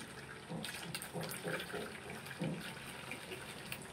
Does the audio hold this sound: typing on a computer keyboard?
no